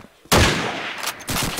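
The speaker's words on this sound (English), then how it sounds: "Shots do start getting rattled off" Loud gunfire from a competitive video game match, a sudden close burst of rapid shots that keeps rattling for over a second with brief gaps.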